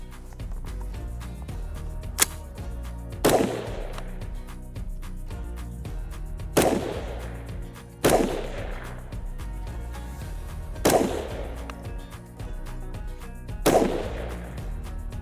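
Six sharp, loud rifle shots ring out one at a time with pauses of a second or more, each followed by a short echoing tail, from an X2 Dev Group AR-X LightFighter AR-platform rifle firing 77-grain rounds.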